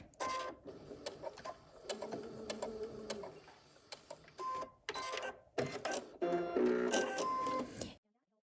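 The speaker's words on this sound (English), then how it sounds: "sew towards the end of the corner of the quilt, and then sew off" A sewing machine stitches binding onto a quilt corner in several quick whirring bursts of different lengths, separated by short pauses. Close and fairly quiet, it runs alongside a person talking.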